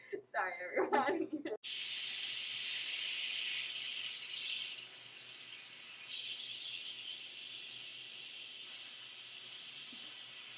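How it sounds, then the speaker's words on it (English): An Instant Pot vents steam through its release valve while cooking mac and cheese: a loud, continuous hiss starts abruptly after a brief clatter and slowly eases off. "you then have to vent to get all of that steam out of the system before you're able to open the pot"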